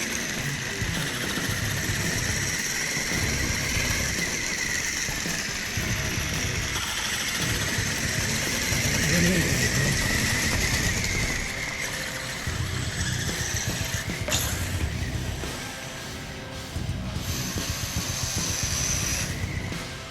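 A Redcat Everest 10 RC crawler fitted with Axial Ryft solid axles drives in a backyard with a slipping drive shaft, giving a continuous whirring, hissing motor whine that surges and dips over a rough grinding rattle.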